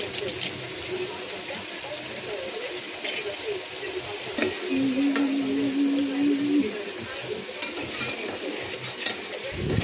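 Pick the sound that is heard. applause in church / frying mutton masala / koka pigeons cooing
frying mutton masala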